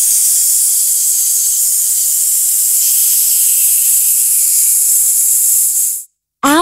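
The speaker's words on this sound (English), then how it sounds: "Snake." Snake hisses in one long, steady, loud breathy rush that lasts several seconds, then cuts off into silence.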